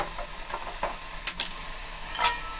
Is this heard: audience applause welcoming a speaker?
no